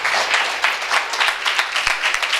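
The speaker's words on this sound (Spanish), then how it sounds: "¡Dale un aplauso, Señor!" A church congregation breaks into dense, loud applause, with many hands clapping together in a continuous burst that stays fairly even from start to finish.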